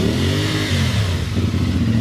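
A new 2024 CF Moto 450 MT motorcycle engine revs up close, a loud steady mechanical roar with rising and falling pitch held for about two seconds, without any talking over it.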